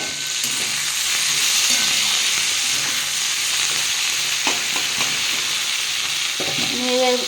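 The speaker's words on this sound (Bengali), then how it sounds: "আমার সবজিটা ভাজা হয়ে গেছে" Cauliflower leaves and stalks fry in a pan with a constant bright sizzle and hiss, the steady crackle broken by a few light clinks of stirring toward the end.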